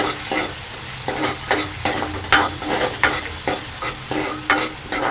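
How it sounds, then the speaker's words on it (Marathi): Onion fries in oil for a fish curry, a loud close sizzle pulsing with regular scraping strokes of a spatula across the pan, alone without voices. "तेल घालावे कांदा घालावे छानपैकी लालूच होऊ दे"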